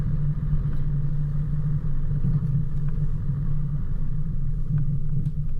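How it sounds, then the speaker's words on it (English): A Toyota Troopy four-wheel drive crawls along an off-road track at Tallarook, its engine holding a steady, loud low rumble throughout with faint ticks and knocks over the top. "here comes Matt in the Troopy"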